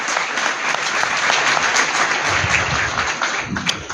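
A church congregation at Holy Mass for the second Sunday of Easter at St. Joseph's Parish in Gujranwala applauds, with dense, steady clapping filling the whole stretch at close range.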